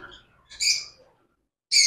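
Small frightened lovebirds give a few sharp, high chirps in two quick bursts separated by a short silence, close and clear.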